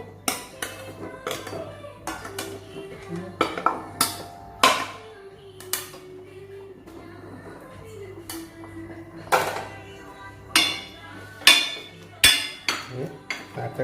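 Pumpkin pieces go into a pot of boiling dal for Kerala mathanga pulimkari, with a scattered run of clinks and clatters of metal utensils against the pot, some sharp and close, others soft.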